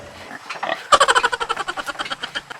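A pig being washed squeals and grunts in a fast, rhythmic burst of loud, harsh cries that follow one another almost without pause, close and unaccompanied by talk.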